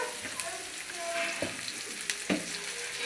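Fried onion with ginger paste sizzles quietly in a pan, a soft, constant hiss broken by a few sharp stirring taps and clinks.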